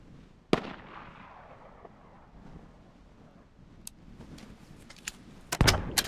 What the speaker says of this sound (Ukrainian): Гарний постріл